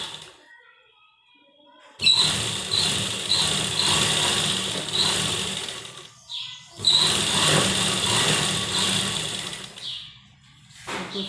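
A sewing machine stitches the sleeve of a baby frock in three runs of fast, whirring motor chatter, two long and one brief, separated by quiet pauses.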